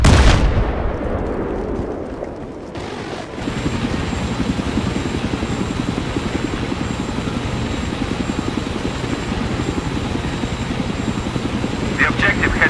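A helicopter in Battlefield 3 multiplayer roars with dense, pulsing rotor chop throughout, after an opening burst of game explosion and gunfire noise, with radio-style game voices mixed in.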